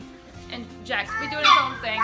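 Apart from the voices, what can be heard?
puppy barking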